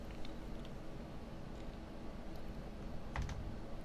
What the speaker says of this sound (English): that's basically your F1 key on your keyboard that we're going to be pushing